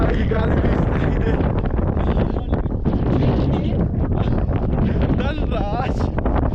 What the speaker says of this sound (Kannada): ಸಖತ್ತಾಗಿ ಗಾಳಿ ಬೀಸ್ತಾ ಇದೆ.